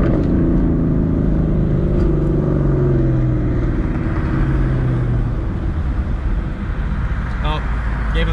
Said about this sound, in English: they're super mad whenever you downshift next to them